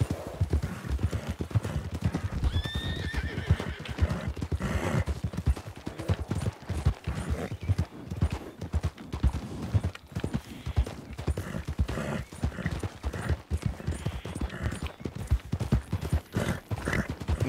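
Hooves clip-clop steadily as a horse trots in a role-play video game, with a brief whinny early on and the rhythmic beat continuing under ambient game noise throughout.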